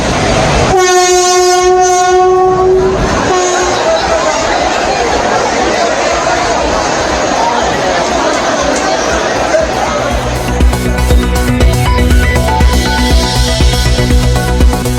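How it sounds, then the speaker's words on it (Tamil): Busy railway station with trains: a loud train horn sounds early, followed by rolling rail rumble and clatter of carriages, with crowd chatter underneath throughout and steady station noise continuing to the end. "ரயில் நிலையத்திலும் அலைமோதும் கூட்டம்"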